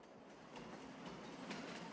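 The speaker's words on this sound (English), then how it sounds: "I just got ran over by a train." A train in the Farming Simulator 22 game rumbles and clatters past close by, a steady rolling rail noise that swells slightly midway and holds loud to the end with no talking.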